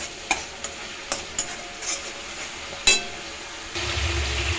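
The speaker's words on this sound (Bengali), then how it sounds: "মশলাটা ভালো করে কষিয়ে রেডি করে রাখছি।" Spice paste fries in a pan, sizzling under sharp scrapes and taps of a stirring spoon, then swelling into a louder, fuller sizzle near the end.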